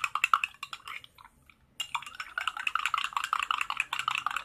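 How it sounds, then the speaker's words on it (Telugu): A spoon stirs dry ginger powder and honey into half a glass of water, clinking rapidly against the glass with a brief pause before the quick tapping resumes. The tapping is close and moderately loud, with no talk. "సొంటి ఈ తేనె రెండు బాగా మిక్స్ అయ్యేలా కలపండి."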